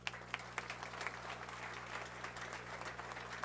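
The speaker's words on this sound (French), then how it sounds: "Vous les applaudissez, s'il vous plaît." Faint, scattered applause from the audience at a Haitian police graduation ceremony, individual claps audible over a steady low hum.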